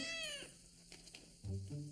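A cartoon kitten named Gilbert gives a short, high meow near the start, then quieter rustling and a brief low thump, in a quiet domestic scene with no talking.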